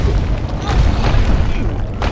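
Fire barrels explode in Kingdoms of Amalur: Reckoning, a dense, loud, low booming rumble that runs without break through the short moment, with no clear separate blasts.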